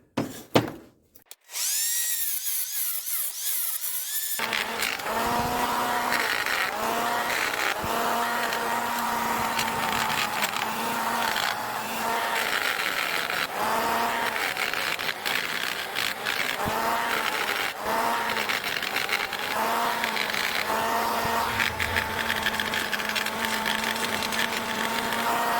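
A power tool grinds an angled edge onto a valve guide in a cylinder head during porting work, a loud, steady high-pitched whine that runs almost continuously after a short start.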